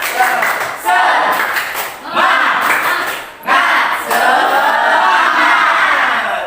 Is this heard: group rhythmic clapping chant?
yes